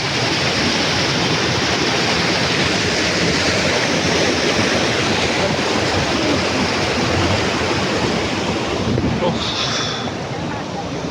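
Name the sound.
Gundicha Ghagi waterfall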